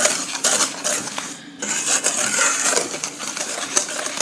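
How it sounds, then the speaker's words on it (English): A whisk scraping steadily around a bowl of flour, sugar, baking powder and salt, a continuous dry rasping, close and moderately loud, with one short pause. "Now I'm going to take a whisk and just whisk all that together"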